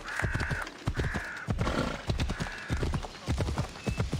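Horse hooves clip-clopping at a steady riding pace in Assassin's Creed Odyssey, loud and close, with a brief whinny-like tone in the background.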